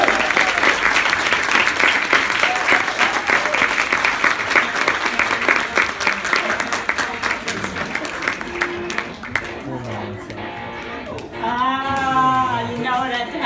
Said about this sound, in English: Please clap Yahoo and cheer.